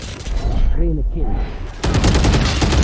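Rapid gunfire in the video game Valorant, loud dense bursts of shots filling the clip, with a short chirpy game sound midway before heavier continuous firing resumes.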